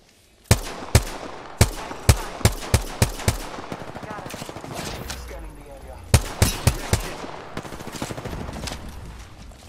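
Gunfire in the battle royale game Apex Legends: two loud bursts of rapid automatic shots, a sharp volley near the start and another around six seconds, with sustained rattling fire and game noise between them.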